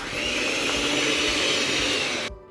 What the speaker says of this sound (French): on va le faire un peu au batteur électrique